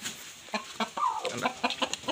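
Two tall roosters clucking up close, a series of short, uneven clucks and squawks over about two seconds.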